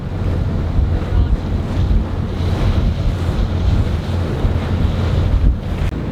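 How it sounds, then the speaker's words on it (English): Big ocean waves rolling near an inlet, heard from aboard a boat underway, with constant roaring surf mixed with heavy wind buffeting the microphone. "The waves are big."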